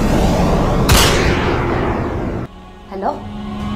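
A single sharp gunshot rings out early in a scene from the drama Tere Bin episode 17, set amid voices and background sound, followed by an abrupt cut to quieter talk.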